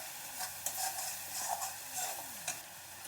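Seeded green chili paste frying in a pan for a Bengali katla fish curry, with a continuous sizzle and light stirring scrapes coming through at intervals.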